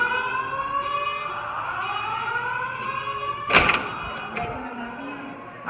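School fire alarm sounding steadily as a continuous electronic tone through a hallway, with a sharp thump partway through and faint background noise.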